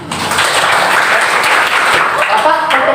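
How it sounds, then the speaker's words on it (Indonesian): Classroom applause from a group of students fills the whole stretch as a dense, steady patter of clapping, with voices mixed in underneath. "tepuk tangan"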